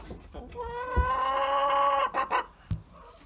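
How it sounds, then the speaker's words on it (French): A young rooster gives a short, strained crow, followed by a few quick clucks from nearby laying hens. "Là vous avez les poules pondeuses. Voilà. Là il y a les petits coqs."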